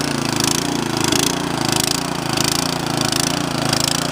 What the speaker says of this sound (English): Auger's spinning good.